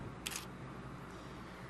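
An SLR camera shutter set to 1/90th of a second fires once, a single crisp, quick mechanical snap close to the microphone against a quiet steady room hiss.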